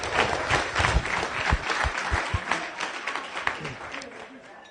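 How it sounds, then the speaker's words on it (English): Members at a weekly Rotary Club meeting applaud visitors and guests, a moderate round of clapping in a room with audible individual claps and some chatter underneath. "If I could please have a round of applause for all of our visitors and guests."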